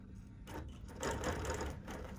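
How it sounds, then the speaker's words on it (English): A BERNINA Q-matic sew head on a quilting machine stitching, a steady close mechanical hum and rapid needle patter that rises in intensity partway through, alone with no voices. "press the green button on my sew head"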